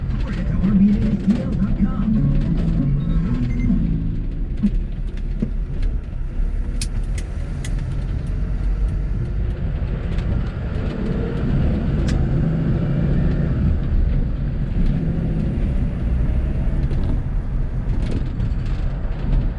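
A 1986 Ford F150 pickup drives along on a test drive, its engine and road rumble steady and close from inside the cab, with a person talking over it at times.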